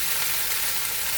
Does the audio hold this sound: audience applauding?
no